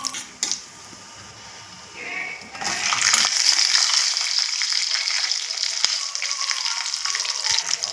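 A few quiet clinks, then a sudden steady sizzle of raisins frying in hot ghee after cashews, continuing close up until the end.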